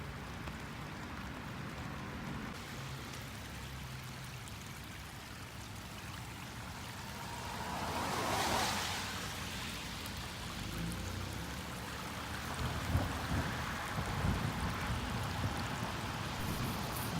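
Water from a sudden suburban thunderstorm flows and pours steadily along a street channel, a continuous rushing stream with rain patter, swelling briefly midway and again toward the end, with no talk.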